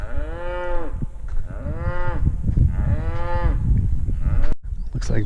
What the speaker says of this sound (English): looks like the cow's done talking